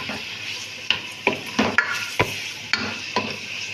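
Chicken sautéing with garlic and ginger in a pan, with a soft background sizzle and a run of sharp utensil knocks and scrapes against the pan, coming about twice a second.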